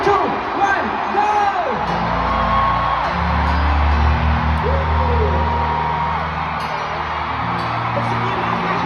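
Large concert crowd at a world tour kickoff show in the Philippine Arena, shouting and cheering together in a dense, loud, sustained roar that swells on cue, with scattered whoops and voices through the mass of sound.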